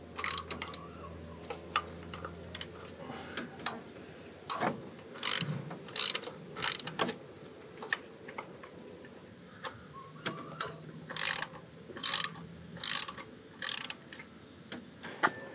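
Intermittent ratchet clicks come from a wrench loosening bolts on a Mitsubishi Montero engine during head gasket work, sounding as bursts of rapid ticking separated by pauses, close and fairly quiet, with no talk.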